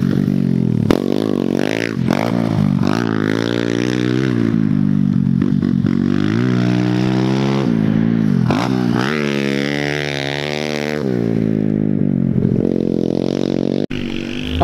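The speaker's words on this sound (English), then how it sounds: "so you can really hear how this thing revs and sounds" A fuel-injected Kawasaki KLX110 dirt bike with a race head revs hard while being ridden, its loud, close engine note repeatedly climbing and dropping through the gears, with a clatter near the end.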